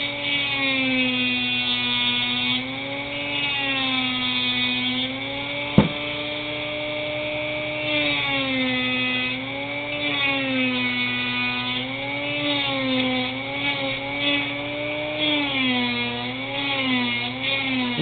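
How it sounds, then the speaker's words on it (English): A cutting bit works lightly on a small carburetor, giving a steady high-pitched whine with rising and falling harmonics over a constant hum, held for the whole stretch, with one sharp click midway and no talk. "And you just cut very lightly with the bit."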